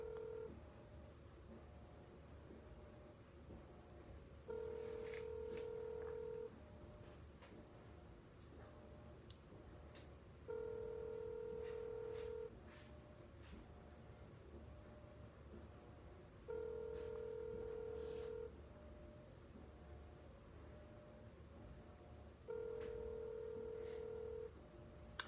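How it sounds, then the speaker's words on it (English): A telephone rings out during an outbound cold sales call, with an opening burst of dialing tones followed by four evenly spaced ring tones at steady intervals, clear and moderately loud over a quiet line hiss. "5 rings and I hang up"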